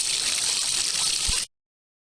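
A Pentair Kreepy Krauly Racer pool cleaner runs in pool water, a steady close wash of churning, trickling water for about a second and a half before cutting off abruptly.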